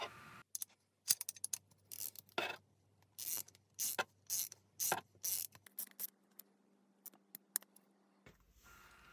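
An M5 nylock nut being fitted and tightened onto a Hope F20 bicycle pedal during a rebuild, heard as a close series of sharp ratcheting clicks in quick irregular bursts, alone without talk.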